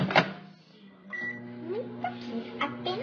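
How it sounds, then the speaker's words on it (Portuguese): A microwave oven hums steadily at home, a low continuous drone with a brief beep early on, while someone talks over it. "Tô colocando aqui no micro-ondas"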